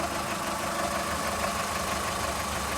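A small 1.4-litre car engine idling under an open bonnet gives a steady, fairly quiet hum with an even low rumble and no changes in pace.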